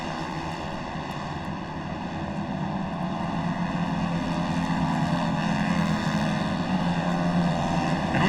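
Off-road mod kart engines at the 2019 Crandon World Championship head down into turn one, their loud buzzing drone swelling and holding steady as the karts pass.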